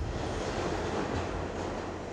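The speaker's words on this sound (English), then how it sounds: "as the train finally pulled away from Penn Station" Train pulling away from Penn Station, heard as a dense steady rumble and broadband rushing noise from inside or near the moving cars, continuous and fairly loud with no speech.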